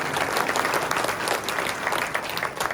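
Audience at a spiritual talk on a clean and healthy society breaks into sustained, dense clapping, loud and continuous throughout with no pauses.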